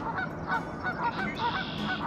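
Geese honk repeatedly in a rhythmic series of calls, moderately distant, over a steady outdoor background.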